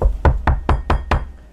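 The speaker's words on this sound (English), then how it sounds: "A knock on the door." Five sharp knocks on a wooden door, evenly spaced and close, played as a sound effect in an audio drama set in Ostia, Italy, 1463, alone with no voices.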